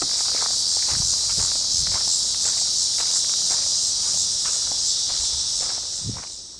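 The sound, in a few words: insects and wind at a desert ghost town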